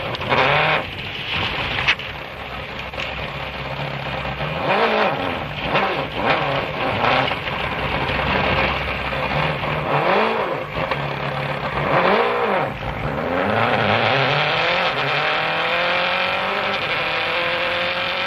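Subaru rally car spinning on a stage of the 2006 Catalonia Rally, with its engine revving up and down in repeated rising and falling sweeps and loud, close bursts over continuous background noise.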